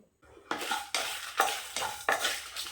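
Whole spices, including Kashmiri chillies, cumin and black pepper, dry roasting in a pan for egg curry, with about five rhythmic scraping stirs of a utensil against the metal, close and fairly loud.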